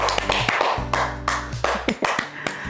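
Children clap in a small group for a boy, sharp close hand claps in uneven bursts, with a low hum running beneath at the start.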